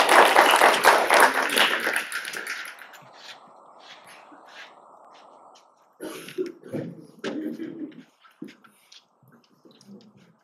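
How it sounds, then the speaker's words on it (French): Applause breaks out after a mock trial hearing, with a burst of clapping from a small group of listeners that fades within a couple of seconds. Scattered handling noises and a few murmured voices follow in a quiet room. "Encore une fois, on peut vous applaudir."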